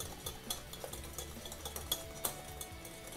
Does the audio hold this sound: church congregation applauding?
no